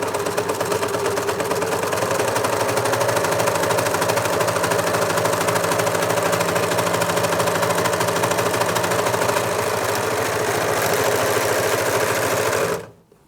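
A Janome 6234XL overlocker sews a denim test piece, running at a steady, loud, fast whirr with a continuous stitching rhythm for about twelve seconds before it stops abruptly.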